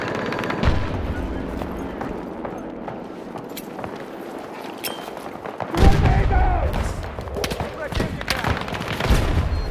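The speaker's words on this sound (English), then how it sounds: "Yeah, they're shooting at me." Gunfire in the Battlefield 2042 Valparaiso map, aimed at the player: sharp scattered shots and bursts, some close and some distant, over a busy battle din, louder in the later half, with a voice talking.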